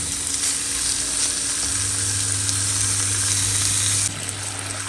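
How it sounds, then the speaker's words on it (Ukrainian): Meat seasoned with dried herbs laid into a preheated frying pan for carne alla pizzaiola, giving a loud, steady close sizzle with a low hum underneath that drops away near the end. "Саме на розігріту пательню викладаємо м'ясо."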